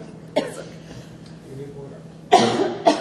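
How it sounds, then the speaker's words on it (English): Two or three sharp coughs, one early and a pair near the end, with quiet murmuring talk in between. "I just had a cough and I apologize."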